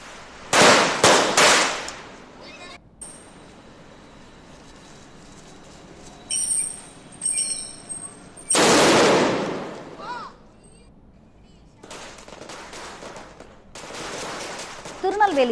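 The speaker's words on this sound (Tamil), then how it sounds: "சிறுவர்கள் பட்டாசு வெடித்து தீபாவளியை உற்சாகமாக கொண்டாடினர்" Firecrackers burst during Diwali celebrations in Tirunelveli, Tamil Nadu, with a rapid cluster of loud sharp bangs at the start, a few scattered pops, and a long roaring blast midway, followed by distant crackling.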